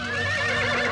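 A cartoon robot horse whinnies in a short, loud, tonal neigh with wavering pitch, heard alone without talk.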